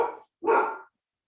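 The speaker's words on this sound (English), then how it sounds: "Apologize for the dog." A dog barks twice in quick succession, close and fairly loud, during a home-hosted online hunting workshop, with silence after.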